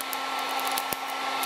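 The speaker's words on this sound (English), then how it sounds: "I've literally had this heat gun on this one bushing for like 20 minutes" A heat gun blasting hot air onto a Chevy S10 truck bushing, a steady close whooshing blower hum with a faint tonal whine and a couple of small ticks.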